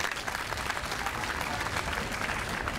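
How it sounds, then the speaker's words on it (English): Sustained audience applause fills a naturalization ceremony in Pittsburgh on World Refugee Day, a dense steady wash of many hands clapping at even loudness throughout. "let's give them a round of applause and appreciation"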